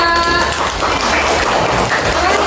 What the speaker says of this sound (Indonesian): Lanjut kita tepuk tangan untuk Nabila